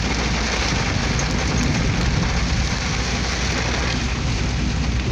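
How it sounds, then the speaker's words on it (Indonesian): Heavy rain pouring at dusk, a dense continuous hiss of drops on surfaces with a low rumbling undertone, steady and unbroken. "Hujan udah hampir 1 jam, belum reda-reda."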